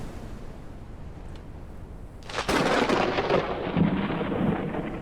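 Thunder crashes in the video game Forever Skies, a broad loud rumbling roar that breaks in suddenly partway through and keeps rolling over a quieter hiss, with no talking.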